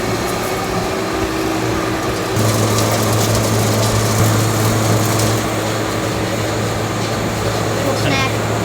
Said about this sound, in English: they take them and they're gonna put them into the grinder